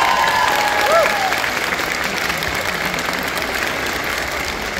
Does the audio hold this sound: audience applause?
yes